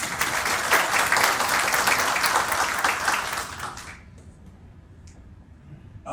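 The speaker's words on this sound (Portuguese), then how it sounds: "Então um aplauso para as mulheres que estão aqui presentes." An audience applauds at a lecture for a minister of Brazil's federal audit court (TCU), steady loud clapping that fades out after about four seconds, leaving quiet room tone.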